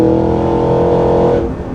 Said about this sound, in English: the exhaust is burbling right now